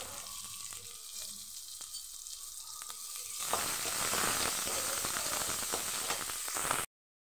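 Onion sautéing in a hot pan for a Tamil-style flat bean poriyal: a low sizzle at first, then louder, denser frying hiss and crackle that carries on steadily until it cuts off abruptly.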